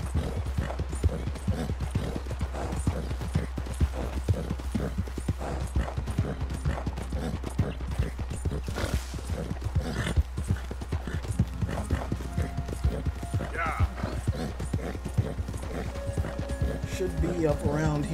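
Horse hooves clip-clop steadily in the video game Red Dead Redemption 2, a fast continuous rhythm of hoof beats heard close throughout, with a brief whinny partway and someone talking over it.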